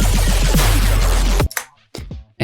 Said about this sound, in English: that kind of tape stop effect